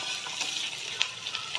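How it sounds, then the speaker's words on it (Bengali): Three chillies drop into hot oil in a frying pan and sizzle, a close, bright crackling hiss with a few sharp pops over a brief moment. "দেখো, আমি লঙ্কা দিয়ে দিচ্ছি 3টে"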